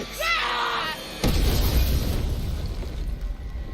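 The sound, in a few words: grenade explosion in Apex Legends cinematic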